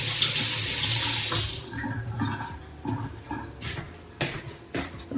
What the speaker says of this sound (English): Wash my hands before I mix it up.